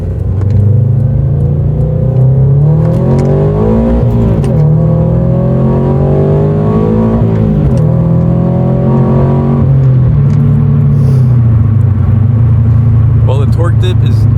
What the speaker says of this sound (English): Let's turn onto this back road and see how it does.